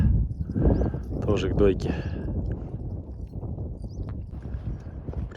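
Mares are herded in for milking, and their hooves clop along under steady nearby talk, with a brief whinny-like call.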